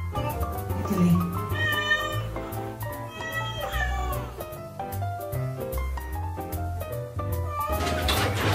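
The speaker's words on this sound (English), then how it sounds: "You giving Kitty a bath?" A cat meows repeatedly while being bathed in a bathtub, its cries mixed with background music and voices that talk over it.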